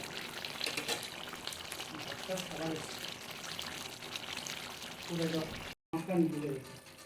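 Ghee and garam masala sizzle in a pan over a steamed vegetarian pointed-gourd dolma. A steady frying hiss with some pouring and stirring noises runs throughout, partly under a voice, and breaks off briefly near the end.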